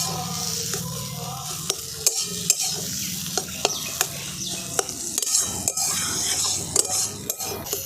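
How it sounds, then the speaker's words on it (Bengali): Pointed gourd and prawns frying together in a pan, with a steady sizzle beneath repeated sharp scrapes and clinks of a spatula stirring against the metal, close and fairly loud. "দেখুন সমস্ত কিছু একসঙ্গে খুব ভালো করে ভাজা ভাজা করে নিয়েছি।"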